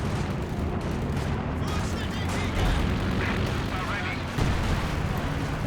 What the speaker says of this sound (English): Another bunker busting barrage.